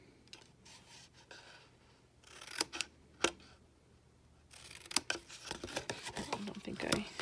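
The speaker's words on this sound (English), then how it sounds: "Then we'll cut up these tabs and angle notch them." Scissors cutting and notching paper tabs on a strawberry treat box craft project, heard as a few sharp close snips and paper rustles spread unevenly between quieter handling sounds.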